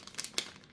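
A small plastic bag of screws from a 3D printer unboxing crinkles faintly nearby in a few brief rustling bursts.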